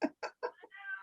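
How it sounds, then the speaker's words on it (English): A cat meows in a short run of several rising, whiny calls close to the microphone, ending in a longer drawn-out cry, with no talking over it. "I have a really rude kitty behind me."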